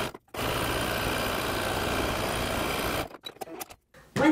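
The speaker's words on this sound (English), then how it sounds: "We want to set it right sides together and stitch those side seams." A sewing machine stitches the side seams of a racerback tank top in one steady, close, continuous three-second run, then stops, leaving a few brief handling knocks.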